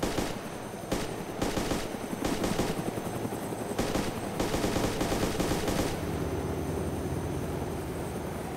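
Machine gun fire from a helicopter in a video game, heard as several short, loud bursts over the constant rotor drone before the shooting stops and only the engine hum remains.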